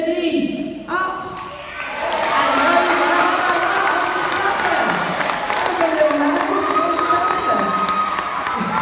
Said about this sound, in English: give him a big round of applause for me